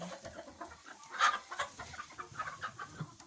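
A broody hen in a henhouse gives soft, repeated low clucks and a few brighter throaty calls, close and fairly quiet, with no talk over them.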